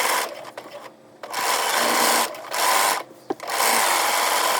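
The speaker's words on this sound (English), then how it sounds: "So here is the underarm, sewing at 5/8 of an inch." A sewing machine stitches a garment's underarm seam at a 5/8-inch allowance, running in three loud, close bursts of steady whirring separated by short pauses.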